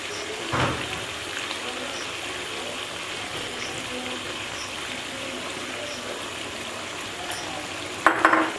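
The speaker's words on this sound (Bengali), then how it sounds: "এবার পটলগুলোকে ছেড়ে দিচ্ছি।" Pointed gourds (potol) slip into a pot of boiling water with a soft plop, over a steady bubbling hiss; a brief clatter of cookware follows near the end.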